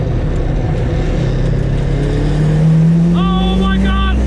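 A Mazda MX5 track car making around 300 bhp on a higher power setting roars loudly up close as its engine revs, the pitch climbing steadily, with a voice briefly heard over it.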